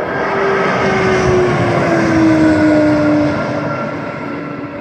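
A Mitsubishi Regional Jet prototype arriving at Moses Lake airport, its loud jet engine roar steady and close with a slowly falling whine over a broad rushing rumble, easing slightly at the end.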